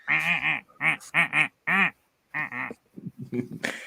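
A voice imitating Ed the Duck, a duck puppet character, lets out a rapid series of nasal quacks in short bursts, loud and close, trailing into quieter chattering sounds.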